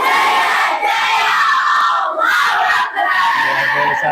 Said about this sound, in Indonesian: ya bagaimana yel-yel kalian atau semangat kalian yang terekspresikan dalam sebuah yel